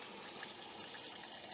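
Aquarium water draining slowly through a partly opened valve in a cichlid tank, a faint steady trickling rush that stays continuous and quiet throughout.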